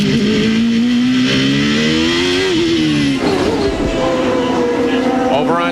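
IndyCar racing through the 1993 Long Beach street circuit, engine pitch climbing and dropping through gear changes with a shift around midway, loud and close under commentator talk.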